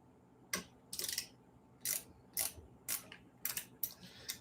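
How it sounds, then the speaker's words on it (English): Bolts on a RadRunner 2 e-bike are tightened with a ratcheting tool, about ten short clicking bursts in an uneven rhythm, close and fairly faint over quiet background. "tightening these bolts up"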